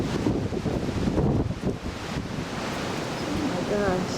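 Strong Alaska wind buffets the microphone at a windy outdoor camp beside a portable pop-up greenhouse, a steady loud roar of gusts with no let-up.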